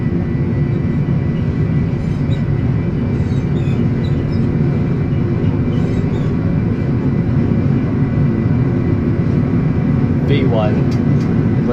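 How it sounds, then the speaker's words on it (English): Airliner engines at takeoff thrust during the takeoff roll in a flight simulator around Hong Kong: a steady, loud, broadband roar with a sustained whine, while pilots talk over it. "Takeoff thrust is set"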